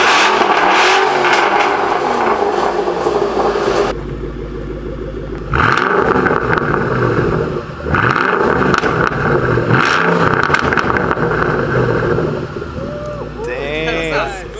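A Cobra car engine with an open intake revs repeatedly in bursts, rising and falling close by with loud intake roar. Voices can be heard talking between and over the revs.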